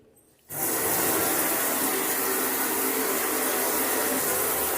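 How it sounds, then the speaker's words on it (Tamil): Water gushing from a newly installed 10x flexible kitchen sink tap, starting abruptly after a quiet moment and then running as a steady, close, full stream. "இப்போ மேலே தண்ணி இப்போது ஆன் பண்ணியாச்சு."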